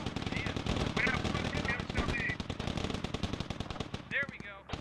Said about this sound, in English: One machine gun.